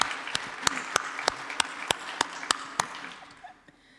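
Audience applause for a guest's parents at a media and democracy event, a dense burst of clapping with sharp individual claps standing out, fading away in the final second.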